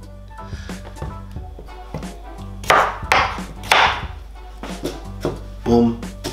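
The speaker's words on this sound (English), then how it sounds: "Next thing I'm gonna do is I'm gonna chop up some cucumber." A knife chopping cucumber on a cutting board for a green smoothie, a series of light taps under a background hum, with a few louder thuds mixed in.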